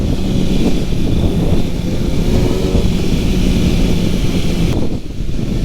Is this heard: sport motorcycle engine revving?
yes